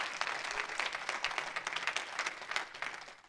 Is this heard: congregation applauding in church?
yes